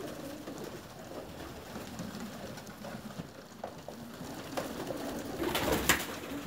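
Pigeons coo softly in a winter loft, a low murmuring under general rustling and shuffling, with a louder burst of flapping or scraping near the end.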